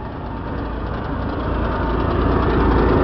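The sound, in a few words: motorhome generator running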